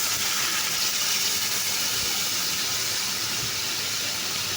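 Water is poured into hot, oil-releasing spice paste for a small-fish curry in a frying pan, giving a loud, steady steamy hiss and sizzle that holds evenly throughout with no talking.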